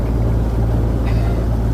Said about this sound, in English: we had to start the engine